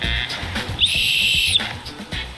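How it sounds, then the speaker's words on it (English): A single sharp, shrill blast from a life jacket whistle during an airline safety demonstration aboard an Airbus A350-1000, lasting under a second, loud and steady, over a low background hum. "The life jacket has a whistle to attract attention."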